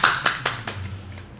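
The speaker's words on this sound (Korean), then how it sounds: "박수로 환영할까요?" A few audience members clap to welcome a guest, an internal medicine doctor, with four or five distinct, fairly close claps in an uneven rhythm that trail off into quiet room tone.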